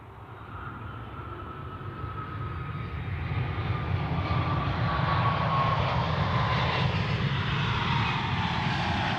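A Delta airliner lands on runway 14 at Zurich Airport, its jet engine roar building from a distant whine into a loud, broad rumbling rush that swells and holds close by.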